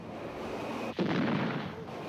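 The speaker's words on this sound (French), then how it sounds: "3 tirs de semonce retentissent." A Soviet gunboat fires warning shots at sea, one sharp loud report with a rumbling boom that lingers over steady background noise.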